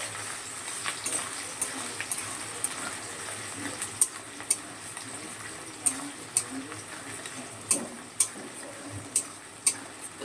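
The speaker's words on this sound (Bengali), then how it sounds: "পেঁয়াজটা একটু লাল লাল করে ভেজে নেব" Onions and half a tomato fry with whole white cumin seeds in a pan of oil, giving a steady, moderately loud sizzling hiss broken by sharp crackling pops throughout.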